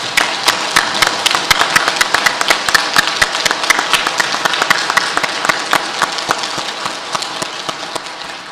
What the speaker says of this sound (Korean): 우리 이 감사와 또 격려의 박수 한번 좀 부탁드립니다